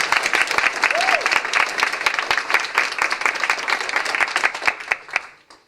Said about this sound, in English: So I think he really deserves a big hand of applause.